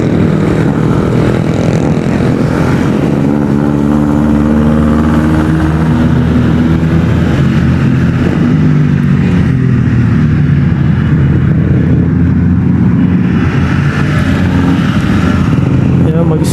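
Steady traffic rumble of cars and motorcycles passing close by in a motorcycle lane, a continuous loud engine drone with shifting tones throughout.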